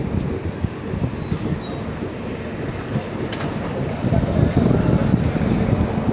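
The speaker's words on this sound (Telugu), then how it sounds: "మన ట్రైన్ అయితే కావలి స్టేషన్కి వచ్చేసింది." A Chennai Central express train pulls into Kavali railway station, its steady rumble and rolling noise filling the scene up close, with wind-like rushing and faint rail clatter throughout, a voice occasionally heard over it.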